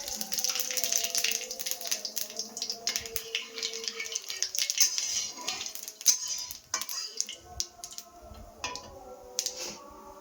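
Cumin seeds dropped into hot oil in a pan while cooking a pointed gourd dish, with clinking utensil sounds and a faint sizzle running throughout.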